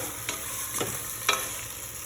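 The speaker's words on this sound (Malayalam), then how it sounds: "ഹൈ ഫ്ലെയിമിൽ വെച്ച് ഈ ചിക്കൻ നല്ലതായിട്ട് ഇളക്കി കൊടുക്കുക" Chicken stirred in a pan over a high flame for a Kerala-style biryani: a steady sizzle of frying with three distinct scraping strokes of the spoon, close and clear, with no talking.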